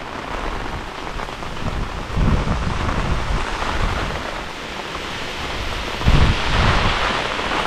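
Heavy rain pouring steadily on a Japanese village during a seasonal storm, a dense loud hiss with low rumbles of thunder rolling in twice.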